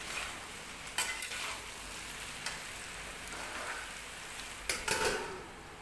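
Pumpkin sabzi cooking in a pan, halwai style, with a steady frying sizzle and a few sharp scraping knocks of a stirring spoon against the pan.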